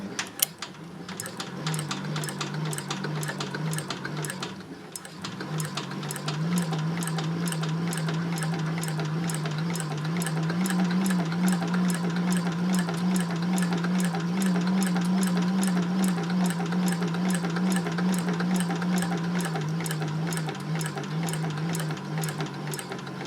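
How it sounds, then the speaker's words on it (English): Sewing machine stitching a denim tote bag made from upcycled jeans, running slowly in one long steady run of evenly spaced stitches, close and alone. "So here we go, and I am going to sew slowly."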